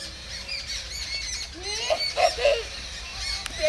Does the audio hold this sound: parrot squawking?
yes